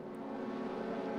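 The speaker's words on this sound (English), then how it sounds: "The Honda engine being loud. It's very loud." Honda touring car engine in a WTCR racing video game, a steady droning engine note held at fairly constant pitch, faint and continuous for a short moment with no talking.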